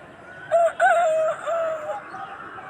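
A voice imitates a chicken, giving a few close, clear, rising-and-falling clucking calls over a steady background hiss.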